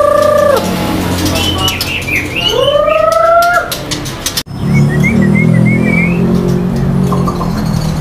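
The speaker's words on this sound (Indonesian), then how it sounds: "berikutnya di sini ada burung murai" Songbird whistles in clear sliding phrases up close, with cooing pigeons and passing car noise underneath; a sharp break midway, then quieter trills over a low rumble.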